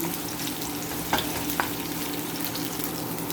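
Red onion added after garlic frying in a pan gives a steady close sizzle, with a couple of soft stirring scrapes on top.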